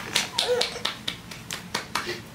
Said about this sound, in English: the first clap caught on camera